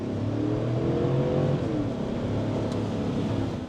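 Car engine revving on the road, a steady, loud, throaty drone with a slight rise and fall that continues throughout.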